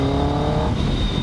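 A Kawasaki Ninja ZX10R engine held at a high, loud, continuous rev with a whining tone, close and alone.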